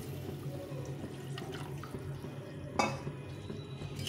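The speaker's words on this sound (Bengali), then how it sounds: "আর একটু জল দিয়ে দেবো।" Water poured into a simmering fish curry in a home kitchen, a brief splashy pour close by with a soft bubbling and low background hum, no talking.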